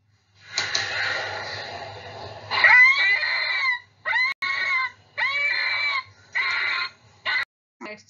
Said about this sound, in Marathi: आता आपण तो कोल्ह्याचा आवाज एकदा ऐकूया